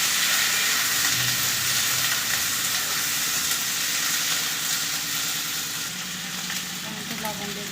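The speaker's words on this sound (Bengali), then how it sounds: "এগুলো আমি একটু ভেজে নেব।" Chopped ginger, chilli, garlic and onion frying in a pan for chilli paneer, a loud steady sizzle close up with occasional stirring scrapes throughout.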